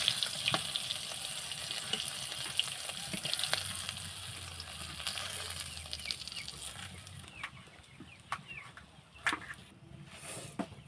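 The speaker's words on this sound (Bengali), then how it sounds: "মাছগুলো কিন্তু ভাজা হয়ে গেছে, তো আমি একে একে কিন্তু মাছগুলো তুলে নিচ্ছি" Steady crackling sizzle of fish frying in hot oil, with scattered sharp pops and spatters throughout; no talking.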